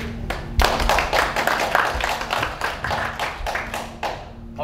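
Audience clapping at a Korean political science lecture, a dense burst of many hands that swells after a brief pause and continues steadily in a moderately close room.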